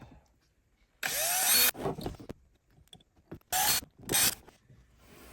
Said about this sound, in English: drill 3 holes